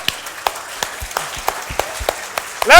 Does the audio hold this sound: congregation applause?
yes